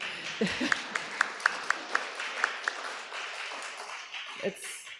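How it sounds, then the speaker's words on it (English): A few scattered claps ring out in a reverberant church, a light, sparse round of applause rather than a full ovation, with faint murmuring in the background. "We can give them a little bit of applause."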